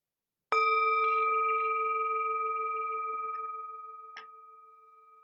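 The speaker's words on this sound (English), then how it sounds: "we will begin and end with the sound of the bell" A meditation bell is struck once, ringing out with a clear sustained tone that slowly fades, followed by a faint brief tap near the end, in a quiet room.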